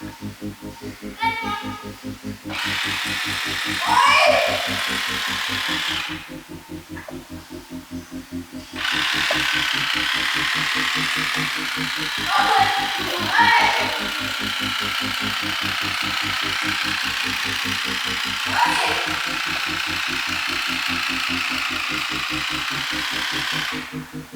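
A modified electric water gun fires continuously in long motor-driven bursts, a steady buzzing whir that runs for several seconds, pauses briefly, then resumes, with short sharper spurts on top and quiet voices in the background.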